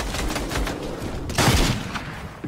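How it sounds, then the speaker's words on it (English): Rapid bursts of video game gunfire, including shotgun blasts, crackle in a loud continuous volley, with a heavier boom partway through and no talking. "I need my shotgun though."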